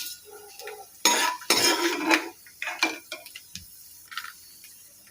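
Dry-roasted peanuts tipped and scraped from a pan onto a plate, giving a couple of bursts of rattling, clattering nuts and metal scrapes, followed by lighter scattered clinks.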